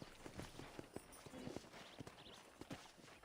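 Horse hooves clip-clop at a steady walking pace in Red Dead Redemption, close and fairly quiet, with a few sparse voice fragments around them.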